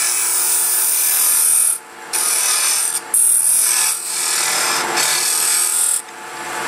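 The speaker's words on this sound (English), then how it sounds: "Really nice to be able to cut directly into end grain with a scraper." Square scraper cutting into wood end grain while hollowing on a lathe, a loud, close, continuous rasping scrape in several long strokes with brief breaks between them.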